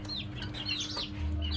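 Chickens clucking inside a backyard coop, several soft, overlapping clucks and short calls at close range over a steady low hum.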